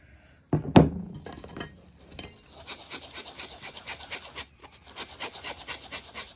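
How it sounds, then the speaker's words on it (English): Flour is sieved into cocoa powder for a homemade chocolate cake: a thump at the start, then steady close-up raspy shaking strokes in a quick, even rhythm. "I'm sieving my flour inside the cocoa powder."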